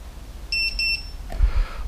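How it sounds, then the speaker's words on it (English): Two short, high electronic beeps in quick succession from a ViFly Finder 2 drone locator, clear against a quiet background, followed by a low rumble. "There is a beep at the moment"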